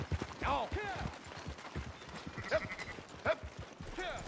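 Sheep bleat close by in a farm setting, several wavering calls early and a few more later, mixed with people talking and some shuffling movement.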